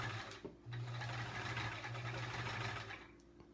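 Sewing machine stitching steadily in free-motion quilting, feathers sewn near a quilt edge; a continuous close mechanical whir with a brief pause near the start, then running evenly for about three seconds before trailing off.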